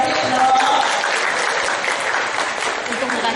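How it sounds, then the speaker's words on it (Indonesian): A seminar audience at Universitas Brawijaya claps during a parenting talk on the dangers of gadgets. The dense, loud applause stays steady for about three seconds, with faint voices underneath. "tepuk tangan dong ya"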